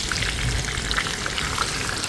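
Spiced chicken thighs frying in a pan, seasoned with onion powder, garlic powder, paprika, curry and thyme, giving a steady close sizzle and crackle with scattered pops throughout.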